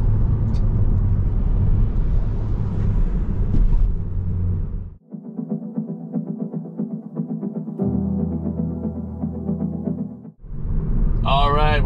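Road traffic heard from inside a car on city streets, with a steady low engine and road rumble that changes character partway through, plus a brief high chirp near the end; no talking.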